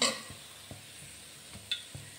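Badusha sweets sizzle softly in hot oil, with faint bubbling under a few light clinks and scrapes of a slotted spoon scooping the golden-brown pieces out.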